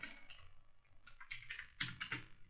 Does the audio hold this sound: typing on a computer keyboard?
yes